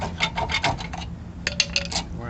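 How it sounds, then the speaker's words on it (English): Old brake pad lining being pried off its backing plate during a front brake job on a 2003 Ram 1500, heard as two close clusters of short scraping, rasping bursts with a brief pause between them. "So we're gonna go ahead, pry these off the brake pads."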